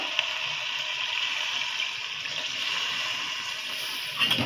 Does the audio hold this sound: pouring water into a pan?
yes